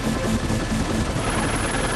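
Helicopter flying over an erupting volcano on Réunion: a dense, steady rotor and turbine roar fills the cabin at constant loudness, with a faint rhythmic blade thump underneath.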